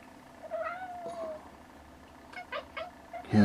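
A large Siamese cat meows in several short, fairly close calls, one drawn out and the rest quick, with a clatter at the end.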